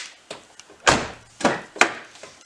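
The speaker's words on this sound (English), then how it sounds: "See if my door opens." The door of a 2006 Porsche Cayenne, with its interior panel removed, is worked several times, giving a few sharp latch clicks and solid thunks spaced irregularly, close and fairly loud.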